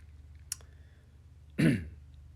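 A single short throat clearing, close and fairly loud, after a brief faint click in an otherwise quiet room.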